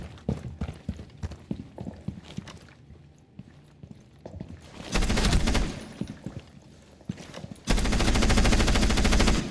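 Video game gunfire in a headshots-only tactical shooter match: scattered shots and movement sounds give way to two loud sustained bursts of automatic fire near the middle and end.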